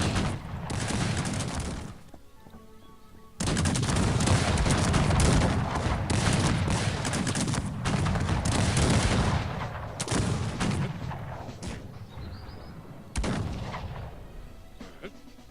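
Musket and artillery fire in a big Cossacks 3 battle: dense crackling volleys and booming shots in loud sustained bursts, separated by brief lulls, with later scattered blasts trailing off.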